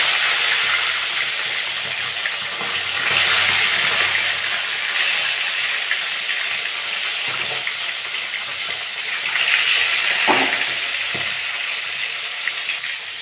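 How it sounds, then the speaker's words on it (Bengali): Silver calf fish fry in hot mustard oil in a kadai, a continuous loud hissing sizzle with swelling bursts and a few soft knocks from the pan, no talking. "মাছগুলো ভেজে নেব।"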